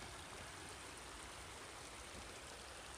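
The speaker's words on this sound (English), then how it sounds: "This is a pretty little creek that comes down through here." A small creek on the Bear Hole Trail in Swatara State Park runs in a steady, even wash of water, soft and unbroken throughout, with no voices.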